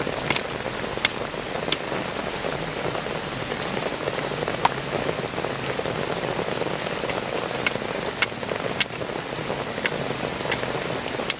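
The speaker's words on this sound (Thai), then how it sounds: "ฝนก็ตกมาเรื่อยๆนะครับ" Steady rain patters down close by in a humid forest, dense and even, with occasional louder drips striking nearby surfaces; no one speaks.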